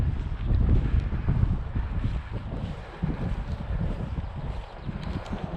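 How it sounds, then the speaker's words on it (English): Wind gusts across crop fields on an open hillside path near Silbury Hill at Avebury, a steady low rushing roar buffeting close with no talk. "the wind blows on the crops"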